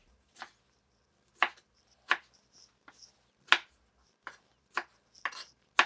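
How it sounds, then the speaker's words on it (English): A knife chops heirloom tomatoes into bits on a board, nine sharp, separate cuts at an uneven pace, close and clear against near silence. "I'm going to cut the tomatoes up, and we've got these heirloom tomatoes"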